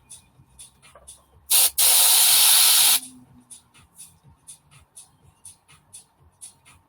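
An airbrush sprays very thin paint in two hissing bursts, a brief one followed by a steady stream of about a second and a half, set between quiet, regular tapping and handling sounds.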